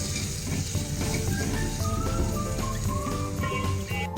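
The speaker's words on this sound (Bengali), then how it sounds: "এবার আমি মশলাগুলো সব ঢেলে দিচ্ছি মশলাগুলো সুন্দর আমি কষিয়ে নেব এবার" Spices for a pangas fish curry are poured into a hot pan and sautéed, giving a steady close sizzle with scraping and clattering of a utensil, plus some faint tonal background sounds.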